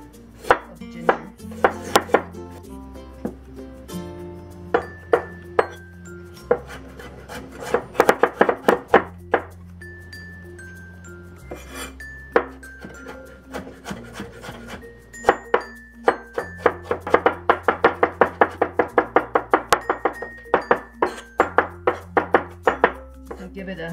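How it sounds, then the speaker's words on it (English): Knife mincing ginger on a cutting board, heard as rapid, crisp chopping taps in repeated bursts with brief pauses between them, close and clear. "I'm going to mince about maybe a tablespoon of ginger."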